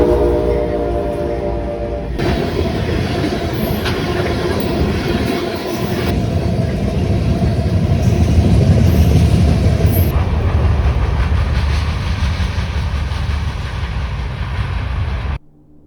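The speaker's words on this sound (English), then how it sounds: "now the train's coming." Train passing close by in Asbury Park, New Jersey, its horn sounding at the start, then a long loud rumble and rattle of cars that builds and holds before cutting off.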